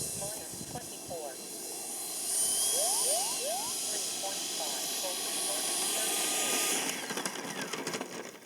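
A Freewing Avanti S 80mm electric ducted-fan model jet taxis on the ground after a seven-minute flight, giving a steady, fairly loud fan hiss and whine that holds throughout. Outdoor background sound runs beneath it.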